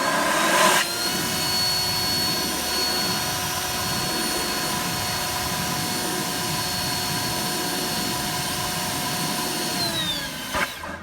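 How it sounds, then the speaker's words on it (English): A leaf blower roars at its highest setting, starting abruptly and holding a loud, steady whine with a high tonal note for about ten seconds before cutting off. "I have my leaf blower set to its highest setting."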